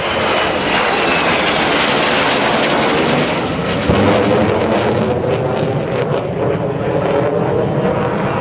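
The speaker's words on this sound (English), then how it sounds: "Right overhead, here comes the Super Sabre." A North American F-100F Super Sabre jet passes overhead at an air show, its loud, continuous engine roar filling the whole stretch and swelling slightly mid-pass before easing as it moves on.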